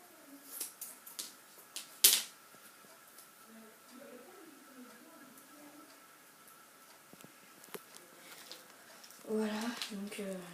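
A single quick crackling rip of adhesive tape pulled and torn while building a crossbow, close but quiet. Soft handling noises come before and after it, and a voice speaks near the end.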